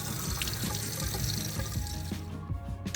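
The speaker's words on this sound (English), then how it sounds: "now we just want to sort of rinse it off as well under some cold running water and in the strainer" Cold tap water runs over rice in a strainer, splashing and gurgling close by in a busy continuous stream that thins out briefly at the end.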